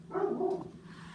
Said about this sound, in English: You might hear my dogs barking.